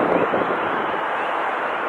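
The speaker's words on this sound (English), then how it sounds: "It's actually quite windy at the top here" Steady wind on a hilltop in Santiago, Chile, buffets the microphone with a low, continuous rumbling roar, fairly loud and unbroken, with no voices.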